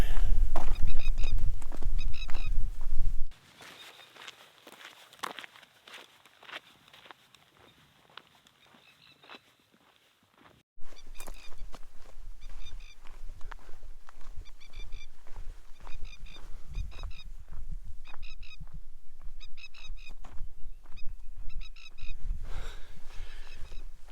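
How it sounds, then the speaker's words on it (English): A plover calls repeatedly near its nest beside a hiking track in the Australian high country, harsh rhythmic cries sounding moderately close over wind and footsteps, with a quieter stretch midway. "So that really annoying sound that you can hear is a plover"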